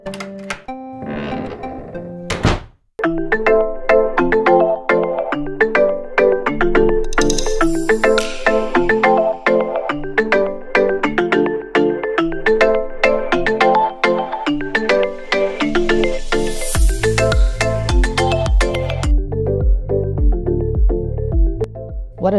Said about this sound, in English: It's my neighbor again, with his loud music.